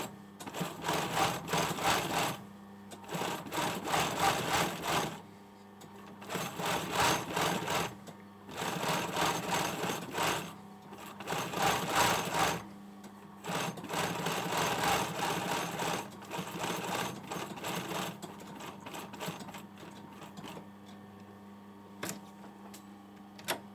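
Sewing machine topstitching the lower edge of a patch pocket onto a hoodie front, running in close, steady bursts of rapid stitching separated by brief pauses, with a few light clicks near the end.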